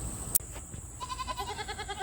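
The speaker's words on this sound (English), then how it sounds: "Alright, so I'm here with the goats." Fainting goats on a farm give a short burst of bleating near the start, followed by several repeated bleats over the rest of the clip, fairly close, with no talking.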